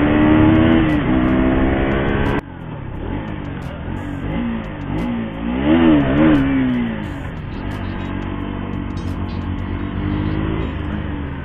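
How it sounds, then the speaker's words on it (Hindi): A KTM 125 motorcycle on a morning ride, its engine droning loud and close, with a sharp gear change early on, then rising and falling revs as it accelerates and eases off. "फिलहाल हम चला रहे हैं के T M one twenty five"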